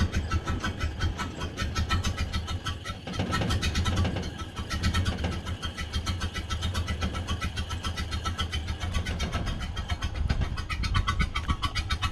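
A Ford Model A barn find engine, just revived, idles with a steady rapid chugging pulse, close and continuous, with no talk over it.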